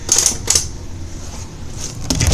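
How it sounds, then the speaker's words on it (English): Electric fan in a room giving off dry, typewriter-like clicking in short clustered bursts near the start, again about half a second later, and at the end, over a steady low background hum. "If y'all are wondering what those clicking noises was, it's my fan."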